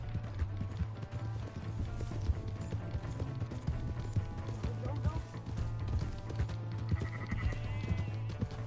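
Horse hooves clip-clop in a steady trotting rhythm in the Western open-world game Red Dead Redemption 2, mixed with a low rumble, faint animal bleats and game voices speaking over it.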